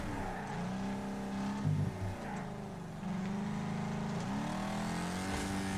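Race cars roaring off the grid in the Wreckfest game during a Trans-Am Series race at Firerock, a dense blend of revving engines rising and shifting, loud and continuous with no talk.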